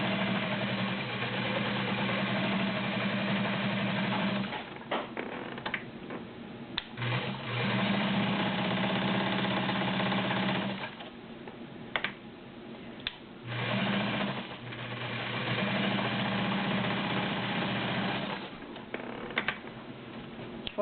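A vintage Kenmore Model 84 sewing machine with a size 16 needle stitches through 14 layers of cotton, a steady close mechanical whirr in long runs broken by brief pauses and clicks, with no talking.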